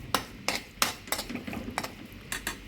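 A spoon clinks and scrapes in a pan while coriander, cumin, turmeric and garam masala powders with garlic-ginger paste are fried and stirred. Roughly eight sharp metallic taps come in a steady rhythm over a faint background.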